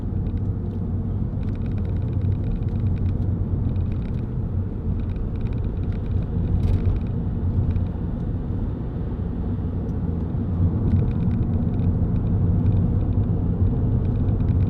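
A Vauxhall Zafira 1.9 CDTi 16v SRi diesel on the road, giving a steady low engine and road rumble that stays even and continuous, heard from inside the car with no talking.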